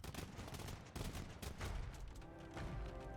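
Bombard cannons in a medieval strategy video game fire in a dense, continuous barrage, with loud overlapping booms and blasts filling the whole stretch alongside battle noise.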